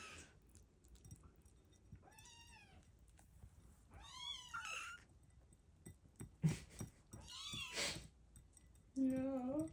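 A kitten meows several times, thin rising-and-falling cries spaced a second or two apart, close but fairly quiet over background rustling, with a brief human voice near the end.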